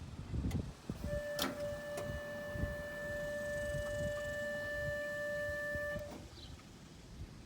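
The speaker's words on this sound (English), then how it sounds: "Fuel pump's getting loud, so might have to address that too." A car's electric fuel pump whines loudly with a steady, high, pure tone that runs for about five seconds, with scattered clicks and knocks before it, then cuts off.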